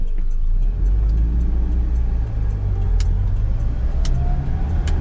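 A 1982 Chevrolet S10 pickup with a 4-speed manual, low miles and in excellent running condition, rumbles steadily at close range with a smooth, even engine drone and no talk over it.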